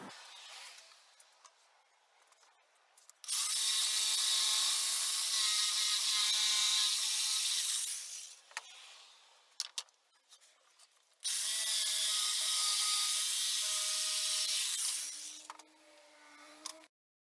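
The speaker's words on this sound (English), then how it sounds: "I've had this jigsaw for quite some time and it really doesn't cut straight no matter what you do" A jigsaw cuts through MDF in two long buzzing passes, the first about five seconds and the second about three. The sound is steady and near, with faint handling noise between passes.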